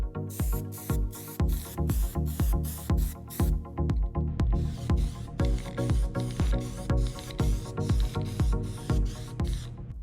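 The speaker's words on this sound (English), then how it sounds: "by the time I'm done spraying all of my base" Plasti Dip rubber coating sprayed from an aerosol can onto car emblems and badges, a series of short hissing bursts close by, followed by a longer run of rapid, evenly spaced sprays.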